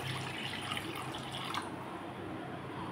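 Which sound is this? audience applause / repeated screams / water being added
water being added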